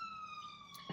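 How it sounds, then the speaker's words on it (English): An ambulance siren wails outside, a steady high-pitched tone heard faintly at a distance for about a second. "Oh, it's an ambulance. Someone might be in grave danger."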